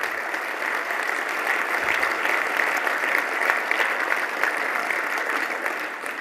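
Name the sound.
audience applause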